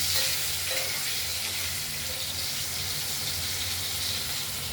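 Potatoes frying in hot oil with a little turmeric give a steady, close sizzle that runs unbroken throughout, with faint clinks over a low background hum and no voices.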